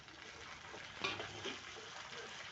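Onions and spices frying for a pumpkin curry, the onions browned, giving a soft, steady sizzle with a brief stirring scrape partway through, close but quiet.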